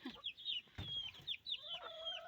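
Several hens cluck and chatter in high, overlapping calls nearby, a busy soft flurry of bird voices with a low thump partway through.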